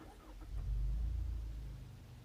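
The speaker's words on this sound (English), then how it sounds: "Start up the vehicle." A Mazda CX-5 Grand Touring starting up, heard as a brief crank followed by a low, steady idle rumble that swells and then settles.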